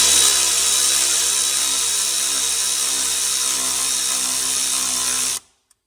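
A power tool drives exhaust manifold studs into a BMW E46 ZHP engine, one loud continuous whirring run lasting about five seconds close up before cutting off abruptly into silence.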